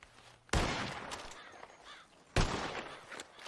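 Two loud, sharp gunshots ring out, spaced about two seconds apart, with birds cawing in between during a bird-shooting contest in the video game Red Dead Redemption.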